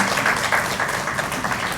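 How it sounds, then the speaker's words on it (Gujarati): Audience clapping after two speakers at a Gujarati literary festival event, a dense, continuous round of applause from a seated crowd, brief and steady. "બંને વક્તાઓનું ખૂબ તાળીથી આપણે અભિવાદન કરીશું."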